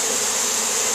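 Steady, dense buzzing of bees, close and loud, a continuous drone with no voices.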